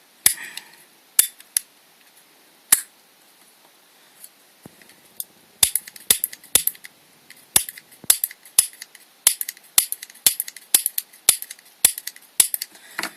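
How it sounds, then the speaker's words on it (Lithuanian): A faulty cigarette lighter clicks close up without catching: a few scattered sharp clicks at first, then rapid irregular bursts of repeated snapping clicks toward the end, with no voices. "Pas mane žiebtuvėlis sugedęs."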